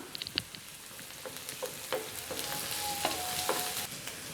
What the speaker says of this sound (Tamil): கேரட்டு, வெங்காயம், பச்சை மிளகாயெல்லாம் நல்லா ஃப்ரை ஆகிட்டுருக்கு